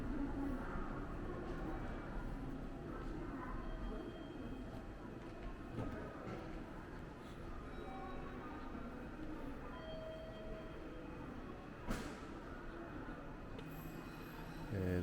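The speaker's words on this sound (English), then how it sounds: "I take JR Kyushu train to Moji Ko Station" A JR Kyushu train rumbles steadily along the rails toward Moji Port Station with a continuous low roar, a faint squeal and a brief clank near the end, with no talking.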